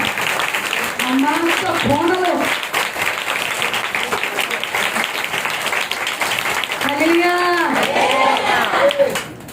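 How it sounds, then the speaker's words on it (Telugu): Church congregation applauding on request, the clapping running beneath a speaker's voice and sung or chanted phrases, loud and steady across the hall. "వీళ్ళకి ఒకసారి చప్పట్లు కొట్టండి"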